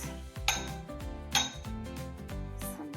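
Ice cubes clatter into a glass of homemade juice, two sharp clinking drops followed by lighter rattling knocks and chimes, close and fairly quiet with no voices.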